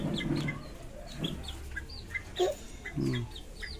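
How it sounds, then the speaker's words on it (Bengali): A pair of Polish cap chickens with crested heads cluck softly and intermittently close by, scattered short calls over a quiet outdoor background. "তো এই হলো আমার মানে ওই পলিশ ক্যাপ চিকেন পেয়ার।"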